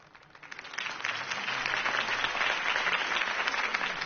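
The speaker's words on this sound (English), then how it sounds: "could have heard that applause" Crowd applause after a political campaign speech in the video game Batman: The Telltale Series swells in over the first second and then holds steady, a broad wash of many hands clapping at a moderate distance.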